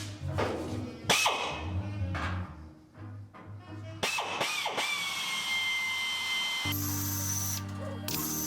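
A power drill boring a hole in the sill of a Ford Escort MK2, its motor whining in uneven bursts that stop, restart and change pitch as the bit bites into the metal, loud and close with no talk.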